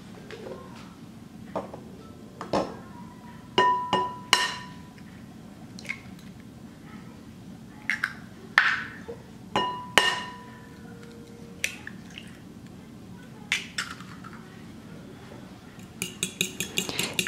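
Eggs being whisked in a bowl for apple pie fritters, with irregular bursts of metal whisk clinks and taps against the bowl rim close by, separated by short quiet gaps.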